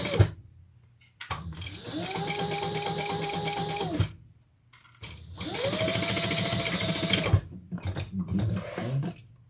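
A sewing machine top-stitches a handbag in two long, steady bursts of rapid stitching, close and fairly loud, with short pauses between them and a little quiet speech.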